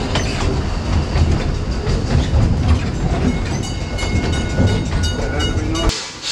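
The Puffing Billy steam train rolls along its tracks with a loud, continuous rumble and rhythmic clatter of wheels close by, fading slightly at the very end.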